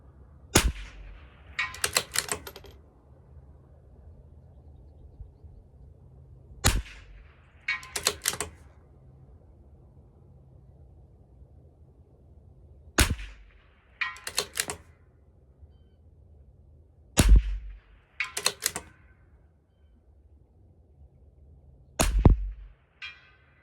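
A CZ 457 LRP rifle fires five single shots at a 200-yard target, each a sharp crack followed shortly by a distant impact, spaced several seconds apart with quiet between.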